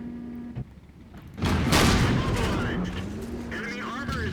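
A tank cannon fires and scores a hit in the World of Tanks video game: a single loud, close boom with a long rumbling tail, with game sounds and a voice around it.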